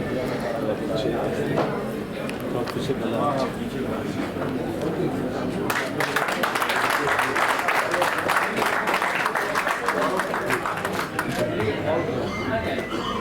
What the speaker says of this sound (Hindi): इस पर जोरदार तालियां हैं